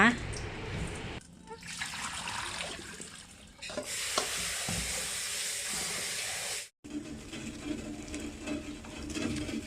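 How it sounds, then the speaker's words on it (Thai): A steady hiss of water heating in a pot for Thai clear soup, with bubbling and faint trickling, rising louder midway before a brief break. "น้ำเดือดแล้วนะคะ"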